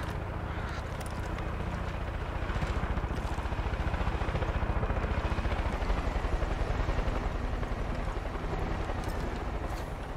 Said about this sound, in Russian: А, вертолет.